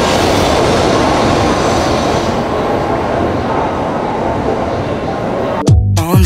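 Steady, loud rumble and rush from inside a fast-moving Japanese bullet train, a continuous roar with a brief jolt near the end.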